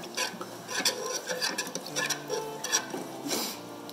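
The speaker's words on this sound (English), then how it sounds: "So we are going to grab our water and we are going to give this a quick stir." Water being stirred with turmeric for natural egg dye, a soft continuous swishing and scraping in a bowl with faint clinks, close and fairly quiet.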